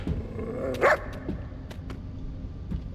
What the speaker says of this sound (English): It's just an ordinary dog.